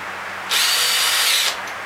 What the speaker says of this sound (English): as soon as I've drilled this hole, I'll show you